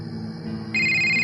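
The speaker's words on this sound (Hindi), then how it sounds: "तभी उसका फोन बजा" A telephone rings loudly and electronically, a steady tone that jumps to a brighter, louder ring partway through, used as a sound effect in a horror story, with no voices over it.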